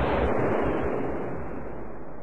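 A Bofors 40mm 3P programmable ammunition shell detonating, a loud, heavy blast with a long rumbling roar that slowly decays.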